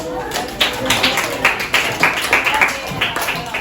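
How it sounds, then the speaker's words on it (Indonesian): A classroom of students claps in uneven bursts of hand claps, fairly close, lasting a few seconds without talk over it. "tepuk tangan buat"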